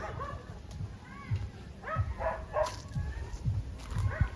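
Several short dog barks and yips ring out at irregular intervals over a steady background hum, moderately close.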